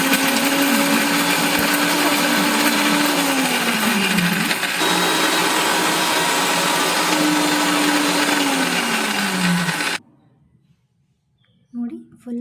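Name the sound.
mixer grinder jar grinding masala with coconut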